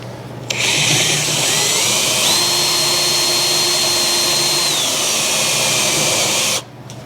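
A power drill runs steadily for several seconds, driving screws into a spalted sycamore wood bar, with a high whine that rises in pitch partway through and then drops back before stopping abruptly; close and loud, with no talk.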